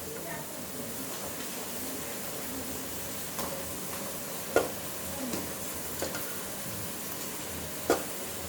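Chicken pieces go into a pan for chicken kanti and fry in spice masala, giving a steady hiss and sizzle with a few sharp clinks and scrapes of stirring near the end.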